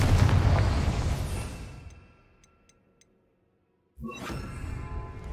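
A Confringo fire spell goes off in Hogwarts Legacy inside goblin mines, a loud rumbling blast that fades to near silence and is followed by a second sharp burst of booming noise.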